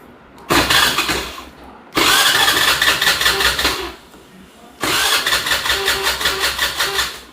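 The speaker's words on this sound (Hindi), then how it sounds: "स्कूटी को स्टार्ट कर देते हैं" A scooter engine cranks and catches three times, each start settling into a steady, buzzing idle, with short pauses between attempts.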